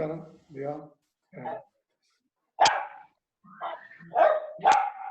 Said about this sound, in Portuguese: Eu tinha falado que o meu cachorro não para de latir.